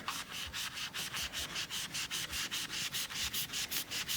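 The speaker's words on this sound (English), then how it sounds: "The magic eraser is actually like a sandpaper." A magic eraser scrubbing the playfield of a 1976 Bally Flip Flop pinball machine, brisk rhythmic back-and-forth rubbing strokes at an even pace, close and alone.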